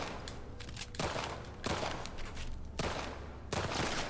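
Gunfire in The Last of Us Part II, coming as three or four loud broadband bursts spaced about a second apart over a steady game background, with no talk.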